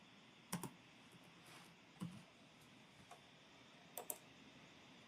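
Computer keyboard typing during a Figma design tutorial, heard as a few sparse, faint key clicks spaced across a quiet background with no talking.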